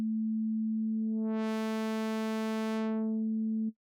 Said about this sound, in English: that turned from a sine wave into a saw wave-like thing